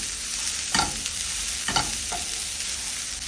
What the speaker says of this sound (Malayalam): ഇതൊരു 5 മിനിറ്റ് മീഡിയം ഫ്ലെയിമിൽ അത് സോട്ട് ചെയ്യുക.